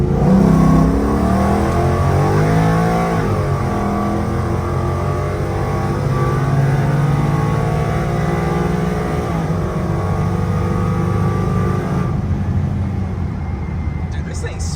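A 5.0 Coyote V8 swapped into a New Edge Mustang with a 6R80 automatic runs close and loud with a steady, smooth drone and a gentle rise and fall in pitch, with voices underneath.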